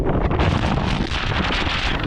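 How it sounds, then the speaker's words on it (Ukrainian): Strong wind roars continuously on a mountain summit near the Polish-Slovak border, buffeting the microphone with heavy, rushing gusts. "Вітер дує просто неймовірний"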